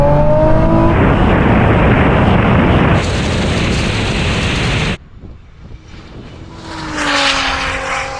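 An 1100hp Nissan GT-R, a Porsche 911 Turbo S and a rallycross car launch side by side in a drag race, roaring at full throttle from close by, then the sound cuts abruptly to a fainter, distant engine drone.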